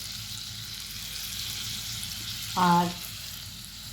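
Spices and pieces of amudi fish fry in oil in a Bengali-style fish curry, making a steady, close sizzle throughout, with a brief voice heard once partway through.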